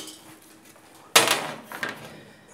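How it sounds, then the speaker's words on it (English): Baking tray set down in a kitchen while making quark wholemeal scones, one sudden loud clattering knock followed by a smaller rattle and a brief clink. "We just get a baking tray."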